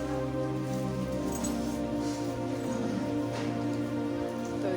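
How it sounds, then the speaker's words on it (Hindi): Rain falling steadily on outdoor surfaces during a cloudy monsoon day, a continuous dense patter with no break, heard alone. "तो जी देखिए बारिश हो रखी है"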